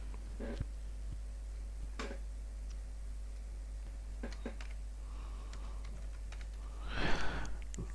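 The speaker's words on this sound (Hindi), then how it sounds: "फ़ोन नंबर टाइप कर लिया" Scattered keystrokes on a computer keyboard sound as a phone number is entered, soft isolated clicks spaced irregularly over a low steady hum, with a brief louder burst of taps near the end.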